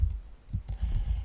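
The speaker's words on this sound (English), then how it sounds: "hit the tab key and then start typing Mental Ray." Quick, light keystrokes tap out a short burst of typing on a computer keyboard, close and clear with no voices over it.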